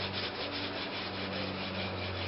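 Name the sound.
hand sanding wood with 80 grit sandpaper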